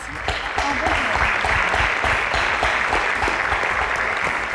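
A quiz-show audience in Abuja breaks into loud, steady applause, dense clapping that carries on throughout with a voice faintly underneath.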